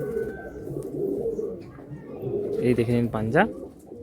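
Madrasi and Giribaz pigeons coo in low, warbling murmurs while being handled. Someone speaks over the calls, and a rising chirpy call stands out near the end.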